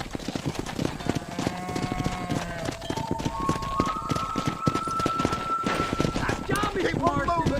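Hooves clip-clop rapidly as a horse gallops in the video game Red Dead Redemption, a steady running rhythm under a rising orchestral melody, with men calling out over it.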